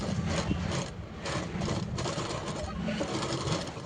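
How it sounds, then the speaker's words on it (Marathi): A sewing machine runs a straight seam along the side of a padded boat-neck blouse, producing a continuous, fairly loud rattling hum with slight pulsing as the needle drives on. "बाजूने सरळ शिलाई मारून घेते त्याला पॅक करून घेते"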